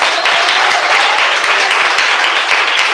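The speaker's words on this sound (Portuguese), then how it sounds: "Mais palmas para Jesus." A church congregation claps for Jesus at a Pentecostal service, a loud, dense, steady burst of applause close to the recorder with no pauses for the full few seconds.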